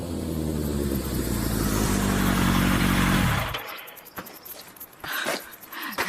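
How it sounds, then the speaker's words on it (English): A motorcycle arrives at a door as a radio drama effect, its engine rumbling loudly and then cutting off abruptly. Quieter scattered sounds follow. "the captain turned up outside the door on a motorcycle"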